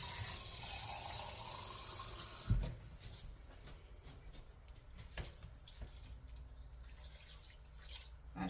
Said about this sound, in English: now we're going to do 1/2 of a can of water